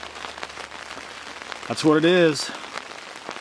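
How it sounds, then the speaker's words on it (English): Heavy rain patters steadily in the Alaskan wilderness during a moose hunt, a dense close hiss of drops on a surface, with someone talking briefly over it. "when it's raining this hard, I'm just going to stay inside"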